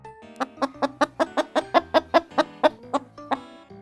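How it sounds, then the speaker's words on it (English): A chicken clucks in a quick, steady series of about a dozen sharp, close notes, each with a bright ringing tone, the pulses evenly spaced and fairly loud before trailing off. "Here we have a chicken"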